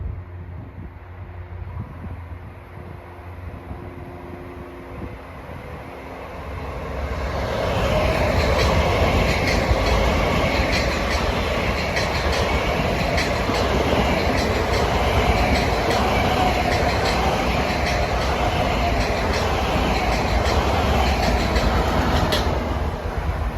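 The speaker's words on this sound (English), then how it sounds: "pulling out of Pine Lawn Station to the west is train 1958, Penn Station to Ronkonkoma train" A Long Island Rail Road commuter train, M7 or M9 electric units, pulls out of Pine Lawn Station heading west, rising from a faint rumble into a loud, steady roll with rhythmic wheel clatter and a high electric whine.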